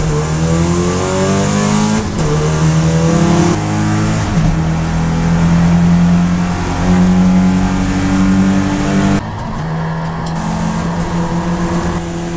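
Porsche 944 race cars launching from a standing start at Sandown Raceway, a loud, close chorus of engines revving hard and climbing through the gears, with no voices.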